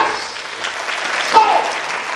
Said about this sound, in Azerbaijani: gözəl alqışlarınızla aşığı alqışlayaq.